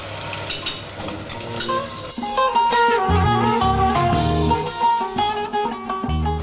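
Oil sizzles and crackles in a pot while making tarhana soup, a steady frying hiss with a brief stirring clatter partway through.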